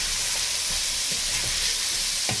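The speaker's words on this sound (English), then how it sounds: "We're going to bring in the onions, get those mixed up, a little bit of salt, again it's going to help those kind of caramelize and cook" Onions frying in canola oil over medium-high heat give a dense, close hiss and sizzle, with a few brief stirring scrapes over a short stretch and no voices.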